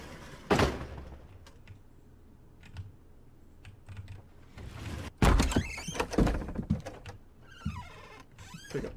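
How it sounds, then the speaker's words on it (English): Doors sliding open in the TeamOkra video game, with a sharp thump near the start and a louder mechanical scrape and rumble partway through, amid small clicking effects and quiet gaps. "You open the doors."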